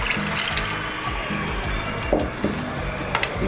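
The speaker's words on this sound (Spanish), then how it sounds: "Vamos a agregar entonces" About half a litre of water poured into a pot of Peruvian chicken adobo, a steady close splashing pour over low background rumble, with a few clinks near the end.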